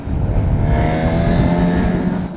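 Honda CB 1000 Hornet four-cylinder motorcycle engine running at steady low revs, a loud continuous smooth drone held close throughout.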